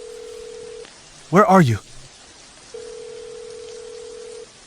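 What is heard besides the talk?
telephone call to a switched-off number, dial tone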